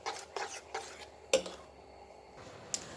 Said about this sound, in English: we also stir this at the same time